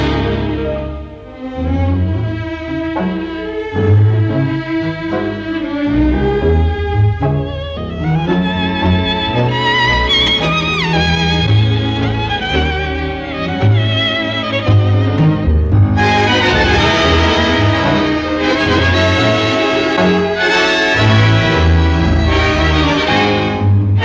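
An orchestra plays a tango, a loud, full tango ensemble with driving accented rhythm and dense melodic lines, swelling even louder in the second half.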